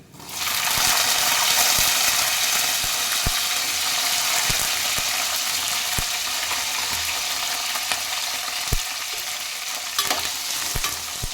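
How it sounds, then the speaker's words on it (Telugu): Green chillies with cumin fry in a pan for a tamarind, coriander and tomato chutney, giving a loud, continuous sizzle punctuated by the scrape and clack of stirring. No voices. "పచ్చిమిర్చి వేగిపోయాయి"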